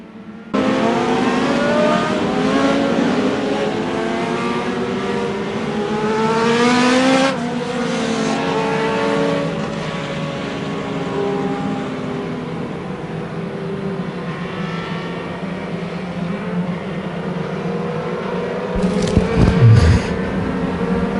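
Mod Lite race cars thunder around the Merrittville Speedway oval during a 25-lap feature at the Canadian Nationals, with many engines revving loudly together as the pack accelerates and passes.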